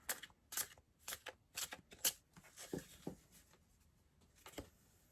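Tarot cards being shuffled on a flimsy, bouncy table, a series of quick riffling bursts in uneven rhythm, close and fairly crisp, tapering off into softer handling near the end.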